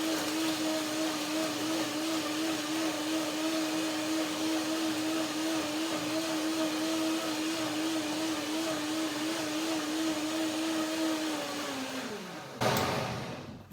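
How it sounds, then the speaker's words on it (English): Blender motor running steadily at high speed for about twelve seconds, breaking down nuts and dates with a little water, then winding down and cutting off near the end; loud and continuous, no talking. "The first blender dance is always to break down the nuts and the dates in this case."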